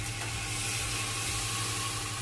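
Milk poured into a pressure cooker while making payasam pudding, giving a steady, close hiss and sizzle that runs evenly with no talk.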